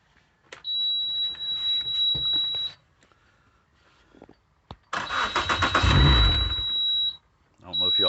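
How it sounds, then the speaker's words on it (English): A Suzuki DF140 outboard motor that won't crank in neutral gives steady warning beeps on the ignition attempt, with mechanical clatter and a person talking between the tones. "I get 3 beeps and that's it."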